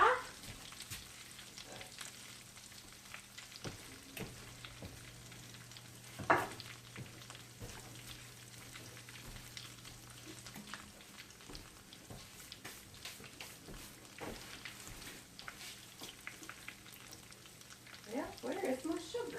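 Fried apple pies cook in hot oil with a faint, steady bubbling sizzle, broken by soft clinks and a few knocks near the start and end, and no one talks over it.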